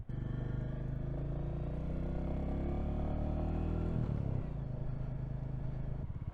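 A Royal Enfield Classic 350 motorcycle thumps along with a steady, close engine drone while being ridden, the pitch shifting briefly partway through as the rider changes speed.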